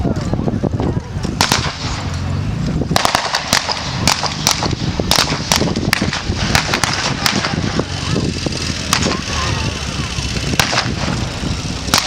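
MG42 machine gun firing in bursts at a WWII battle display, with sharp, loud cracks and clusters of rapid shots recurring throughout over a busy outdoor background with some voices.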